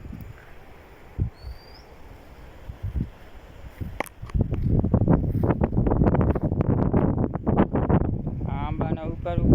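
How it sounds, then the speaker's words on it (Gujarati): Wind gusts over an open peanut field, starting as soft rumbling microphone buffeting and then building into loud, sustained blustery roaring for the second half. "પવન પણ નીકળ્યો"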